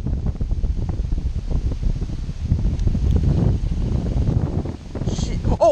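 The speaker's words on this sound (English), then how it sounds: "Oh my, it is so windy out here." Strong wind gusting across an open waterside spot while bass fishing, a steady loud low roar buffeting the microphone throughout.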